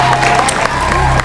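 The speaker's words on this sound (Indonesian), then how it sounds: "Sekali lagi kita berikan tepuk tangan yang sangat meriah" Studio audience applause on an Indonesian television show, a dense steady patter of clapping with crowd noise and a low hum, lasting about a second under a broadcast mix.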